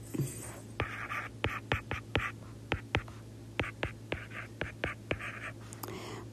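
A pen or stylus scratches and taps out a math problem, a series of short irregular strokes close up and fairly quiet over a faint steady hum.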